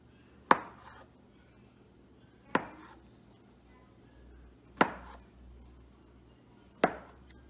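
A knife chops through rolled sticky bun dough four times, making sharp, evenly spaced cuts that thud against the board with quiet pauses in between.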